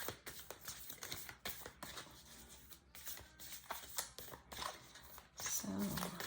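Tarot cards being shuffled by hand, a run of quick papery riffles and soft slaps in uneven bursts, close and moderately loud, with a brief fumble near the end.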